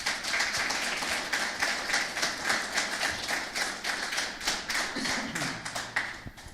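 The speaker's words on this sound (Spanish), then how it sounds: "¿No le das un aplauso al Señor por ser tan bueno?" A church congregation claps steadily for about six seconds, a dense, even wash of many hands at moderate distance, with no voices above it.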